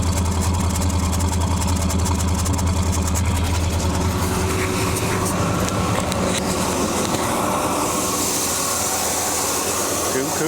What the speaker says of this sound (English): give you a little taste of the stock exhaust